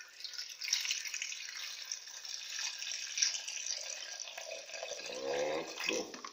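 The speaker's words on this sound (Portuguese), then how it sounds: "Colocar agora a nossa amada água." Water pouring steadily into a blender jar holding a turmeric detox juice, a continuous close splashing stream that shifts in pitch near the end as the container fills.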